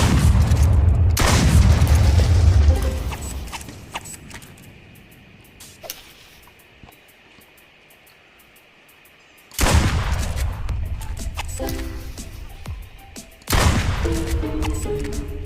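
Gunshots fired at birds in the video game Duck Season ring out as three loud booming blasts, each trailing off into a long decaying echo, with quiet stretches in between.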